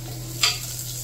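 Homemade red chillies frying in hot oil, a brief steady sizzle with one quick stirring scrape midway, close and alone.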